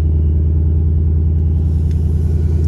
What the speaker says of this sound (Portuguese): Carro que tem um som fenomenal, tá? O som do Mustang é impecável.